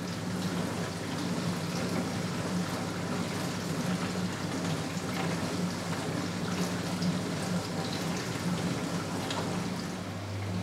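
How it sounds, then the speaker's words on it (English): Water rushes steadily into an Indesit IDF125 dishwasher as it fills, a constant watery hiss with a low hum running underneath, unbroken and even for the whole stretch. "It's now filling up with water"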